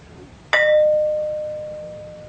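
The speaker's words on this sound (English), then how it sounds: "this thing really rings like a bell, and it reverberates for quite a long time" A single sharp strike on a stone object rings out like a bell, a clear metallic tone that sustains and slowly fades over a couple of seconds after one impact.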